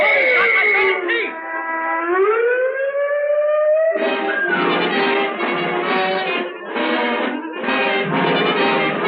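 Wailing siren effect from an old radio drama, a rising and falling tone that turns into pulsing bursts, loud and up front, with voices talking over it.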